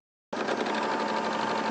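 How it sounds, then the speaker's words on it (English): A sewing machine stitches fabric at a steady, fast whir after a brief silence, close and continuous without talk. "I'm sewing the other side."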